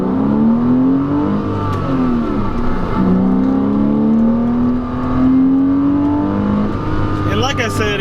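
A 2008 Porsche Boxster engine revs and pulls through rising gears on back roads, pitch climbing and dropping between shifts, heard from inside while driving, with a brief whine near the end.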